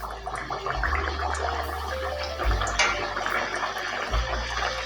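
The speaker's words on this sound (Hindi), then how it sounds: "अब इसके ऊपर ऑयल डालेंगे थोड़ा थोड़ा इस तरह से" Hot oil spooned over aloo puri frying in a pan on medium heat, a continuous bubbling, gurgling hiss with splashy surges as the oil is poured, fairly close.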